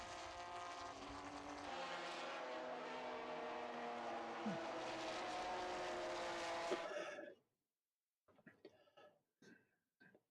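A TVR race car at the Estoril Classics roars past loud and close, its engine note sustained for about seven seconds before cutting off abruptly, leaving near silence broken by faint, brief sounds.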